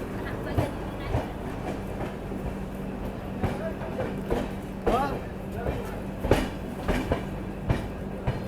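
The Poorva SF Express runs on the rails near Mokama, its wheels sounding a rhythmic clickety-clack with periodic thumps under a steady rolling rumble, while people talk over it aboard the train.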